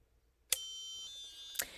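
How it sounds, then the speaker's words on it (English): A LightStim LED skin device beeps as it is switched off: a sharp click into a sustained high beep lasting about a second, ending with another click, close and clear in quiet. "I'm going to shut it off. You'll hear the beep."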